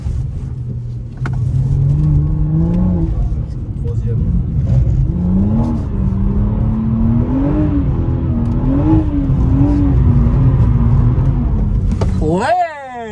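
A car on a drift day, a Nissan 370Z, BMW 340i or BMW M3 F80, rumbles and revs from inside with rising and falling engine tones, and people talk over it.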